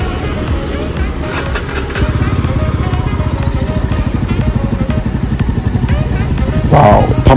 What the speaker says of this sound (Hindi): चलिए बाइक को स्टार्ट करते हैं और देखते हैं कैसा इसका एग्जॉस्ट नोट है